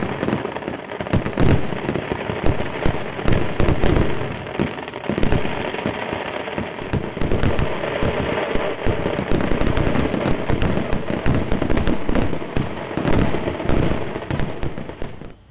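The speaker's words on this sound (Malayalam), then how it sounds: "പുലർച്ചെ ആകാശത്തിൽ വർണ്ണക്കാഴ്ചകൾ തീർക്കുന്ന വെടിക്കെട്ടിൻ്റെ ഉത്സവം കാണാനുള്ള കാത്തിരിപ്പ്" A fireworks display at the Thrissur Pooram festival in Kerala erupts in loud, dense volleys of crackling bangs and rapid firecracker bursts, keeping up without a break.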